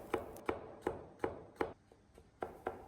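A knife slices peeled garlic into thin slices on a board, giving about eight crisp, evenly spaced taps, quiet and close, with no talking.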